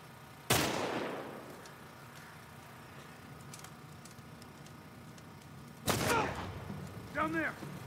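Gunfire in The Last of Us, with two sharp, loud shots several seconds apart against a quiet game background, the second followed by a short tonal game sound.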